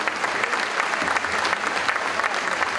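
Steady, dense audience applause rings out at a rugby league tribute ceremony, loud and continuous from start to finish.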